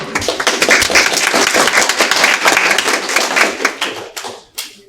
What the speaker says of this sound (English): Can we give one more round of applause for him, please?